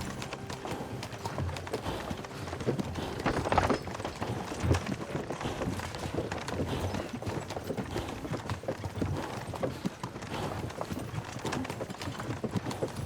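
Horse hooves clip-clop steadily in Kingdom Come: Deliverance 2, a continuous rhythmic trot that runs throughout, close and moderately loud over a busy game soundscape.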